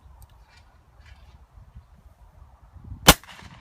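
A pump-action shotgun fires once at clay pigeons outdoors in woodland, a sharp loud blast near the end after quiet background noise.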